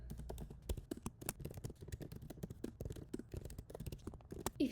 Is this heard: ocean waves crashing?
no